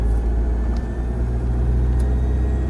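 A car engine hums and rumbles steadily at close range and pulls up through the gears. The tone stays low and sustained, with no talk over it.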